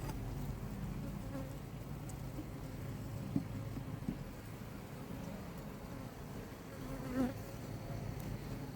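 Honey bees hum in a dense, steady drone around an opened hive being split in spring, close and continuous with a few faint knocks of hive parts and no talk.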